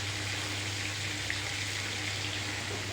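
A pot of fish sauce with added water and washed, chopped coriander simmers steadily, giving a soft, even bubbling hiss with a low hum beneath, close and unbroken throughout.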